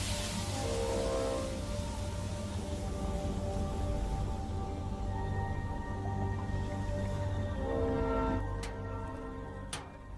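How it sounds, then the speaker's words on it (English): Huge freight train carrying iron ore in Mauritania: a long, continuous low rumble and grinding with sustained metallic tonal whines, steady and fairly loud throughout, with a few sharp clanks near the end. "production goes on round the clock to fill the huge trains that carry it away"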